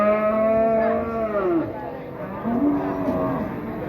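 Cattle at a busy livestock market in Wirosari give long, loud drawn-out moos, one call trailing into a second lower one close by, with faint crowd murmur beneath.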